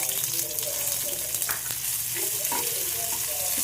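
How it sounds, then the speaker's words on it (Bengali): Oil sizzles steadily in a pan with crackling pops from mustard seeds frying alongside grated garlic, and occasional scraping of a spoon. "অল্প একটু সর্ষে দিলাম এটা চটপটে চটপট চটপট করুক"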